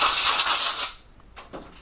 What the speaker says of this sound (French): Soufflette, attention.